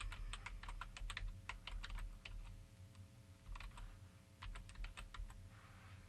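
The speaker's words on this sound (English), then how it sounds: "So I would like you to type www.totaltraining.com" Quick bursts of keystrokes on a computer keyboard as a web address is typed, close and clear, in short clusters separated by brief pauses in a quiet room.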